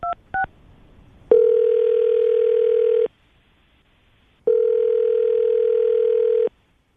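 Telephone dial tone heard while placing a call: two short blips at the start, then two long steady tones of about two seconds each separated by a pause, clear and alone with no talking.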